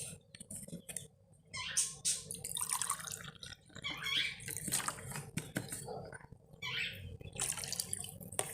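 Lemon juice and vinegar are poured over olives in a kitchen, making soft splashes and trickling drips. Faint handling noises come from the bowl, the sounds are close and fairly quiet, and there is no talk.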